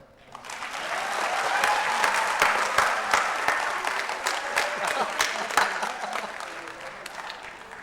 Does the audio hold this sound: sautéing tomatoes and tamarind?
no